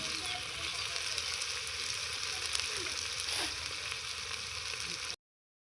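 Chopped onions and mint frying in a pan for Telangana-style thalakaya kura, a steady even sizzle throughout, close and moderately loud, ending abruptly.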